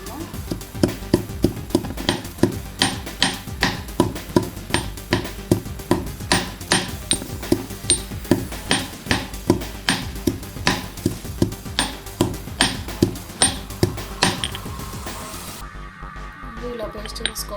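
Smashing ingredients for rose lemonade, a run of sharp, regular pounding knocks repeating steadily for about fourteen seconds, close and fairly loud, then stopping abruptly.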